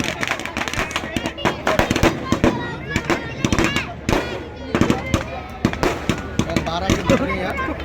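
A hanging string of firecrackers at a Dussehra Ramleela crackles off in rapid, irregular bursts of sharp loud pops close by, with people talking and calling out over the barrage.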